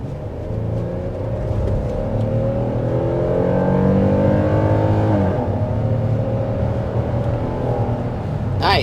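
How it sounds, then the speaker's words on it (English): A 2024 Kia Telluride SUV accelerating hard, heard from inside the cabin as a steady rising engine roar with road noise, a gear change partway through, then easing off at the end, with no talk. "we're going to go ahead and start with a hard acceleration"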